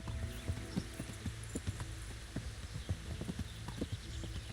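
Horse hooves clip-clopping in a steady, brisk gait while riding across terrain in a medieval video game set in Bohemia, moderately close over a low ambient hum.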